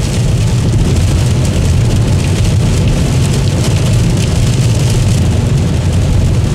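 Heavy rain drums steadily on a BYD Dolphin electric car cruising at about 120 km/h on the motorway, a continuous loud wash of rain and road roar with no breaks.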